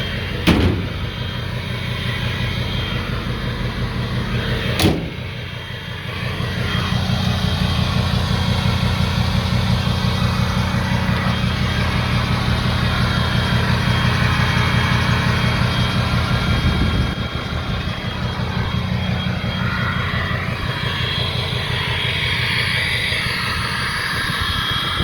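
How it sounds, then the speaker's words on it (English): A 2006 Ford F250 Lariat 4WD idles with an aftermarket larger exhaust tip, a loud, steady low rumble that holds for the whole stretch, with a couple of sharp clicks near the start. "It's got a aftermarket bigger exhaust tip that's makes it a little bit louder."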